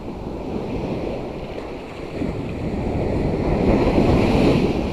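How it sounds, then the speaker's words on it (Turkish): Big sea waves break on the shore in a steady, loud roar with wind buffeting the microphone, the surf swelling louder toward the end, no voices present. "önümdeki dalgalar şu an çok büyük"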